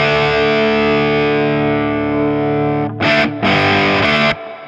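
An electric guitar through a mini amp head with its switch in the neutral position: a long sustained distorted chord ringing loudly, then two short chopped strums before it cuts off.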